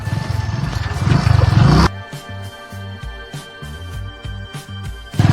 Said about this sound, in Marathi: बिबट्या दिसला घाबरून पळायला लागला हो